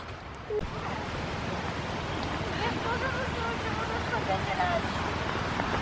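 A stream rushes steadily outdoors with a constant hiss and gurgle, mixed with wind noise and faint voices.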